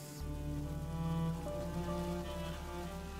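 Rain falls steadily outdoors near a castle, a constant hiss of drops on surfaces beneath a sustained musical drone.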